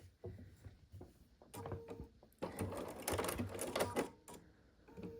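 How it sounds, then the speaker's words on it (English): Sewing machine stitching pieces for a pumpkin quilt, short bursts of rapid needle clatter building into a longer steady run, close and fairly quiet. "And I have to just sew this quick."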